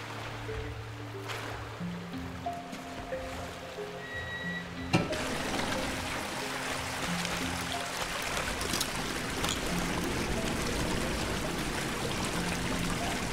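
Running water rushes continuously near a giant valve in the video game The Classrooms, a steady broadband flow that swells louder midway and holds on, preceded by a faint low tonal drone.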